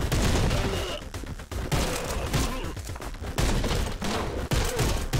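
Rapid gunfire in the fast first-person shooter game Anger Foot: loud, dense bursts of shots and thuds fire almost continuously over several seconds, with brief gaps between volleys.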